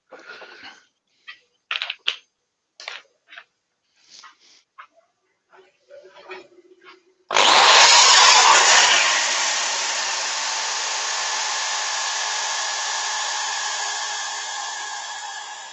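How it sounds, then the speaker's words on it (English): A painted piece being sanded with what seems to be a power sander: after scattered clicks and small knocks, a loud electric whir starts abruptly and holds steady, slowly easing, close up. "quickly get this sanded"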